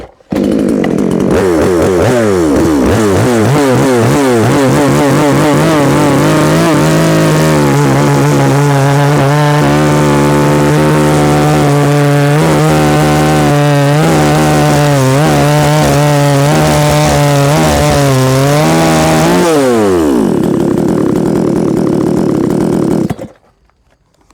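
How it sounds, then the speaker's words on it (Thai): A Tomitsu TMS5800 two-stroke chainsaw cuts through an 11-inch dry makha mong log with hard heartwood. The engine is pulled up to a loud, sustained high rev that strains and wavers while it bites the wood, then it drops back to idle and stops, very close. "กับเลื่อยยนต์ตัวนี้ของโทมิสุ TMS 5800 ไม้มะค่าโมงแห้งมีแก่นด้วย"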